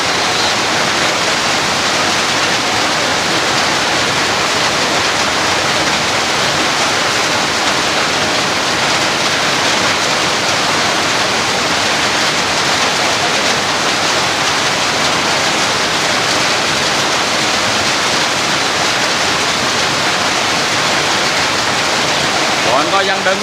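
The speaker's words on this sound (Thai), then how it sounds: "ถึงฝนจะตก" Heavy rain pours down during a women's football final, a loud, dense and unbroken hiss of water that goes on without any letup.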